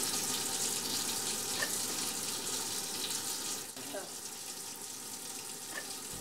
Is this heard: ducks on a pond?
no